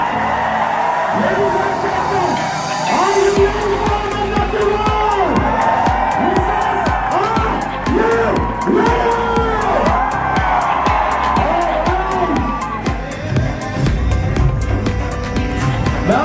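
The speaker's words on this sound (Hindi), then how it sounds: "तालियां बजाते रहे, जोरदार तालियां।" Large seminar audience at a university cheering, whooping and clapping, loud and sustained, with a voice speaking over the crowd noise.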